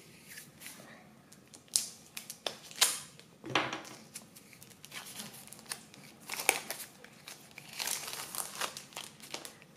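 Plastic wrapping crinkles and tears as an oracle card deck is unwrapped, close and continuous with irregular sharp crackles and rustles.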